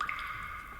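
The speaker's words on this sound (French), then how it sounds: "On dirait le bruit des gouttes d'eau qui tombent" Drops of water falling from a poorly closed spring tap, a soft wet dripping with a steady watery tone, close and alone, lasting under a second.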